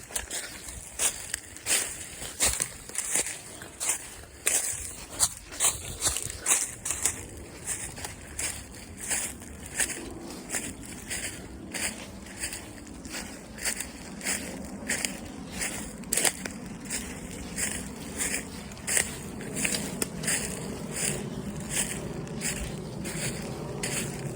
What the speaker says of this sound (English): the crunching of the leaves isn't too loud.